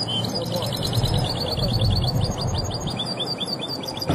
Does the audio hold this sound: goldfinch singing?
yes